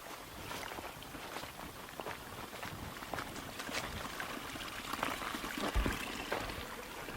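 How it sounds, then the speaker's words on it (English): Stream of water running across a mountain trail, a steady close trickling and gurgling wash that continues throughout, with a few faint knocks and steps mixed in. "Water goes right through where the trail is."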